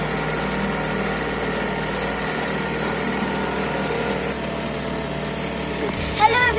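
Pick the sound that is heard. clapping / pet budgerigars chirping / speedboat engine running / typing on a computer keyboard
speedboat engine running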